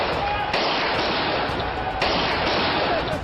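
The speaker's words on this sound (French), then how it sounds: "Premièrement, ça tire." Dense crackling gunfire during night riots between residents and police, a continuous loud barrage of overlapping shots with no pauses, close and harsh.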